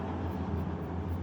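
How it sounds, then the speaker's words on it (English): A steady low rumble with a constant broadband roar, like a train passing at a distance, holding even throughout. "Excuse the train going by if you can hear that."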